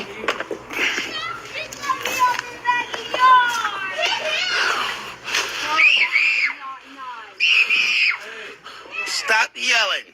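Young children playing indoors near a staircase, one yelling and screaming loudly in repeated high-pitched bursts mixed with excited chatter. The shrieks come in uneven, rising and falling waves throughout, with brief pauses between them.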